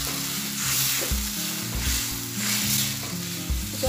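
Spices frying in a pan for an egg curry hiss into a loud, steady sizzle as a little water is added, with low clunks of stirring beneath the hiss throughout.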